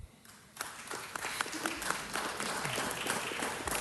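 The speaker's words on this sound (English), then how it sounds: "That deserves a round of applause." Applause at a city council meeting starts faint, then swells after a moment into a steady patter of clapping from a modest crowd in a hall, with no talk over it.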